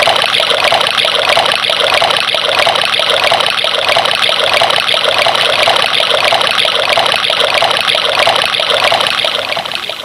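Water from a hand pump pours steadily into a metal pot, a continuous close splashing trickle that holds level throughout and tapers slightly at the end, with no voices.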